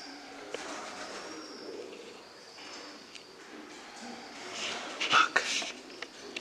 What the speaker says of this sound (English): So many pigeons.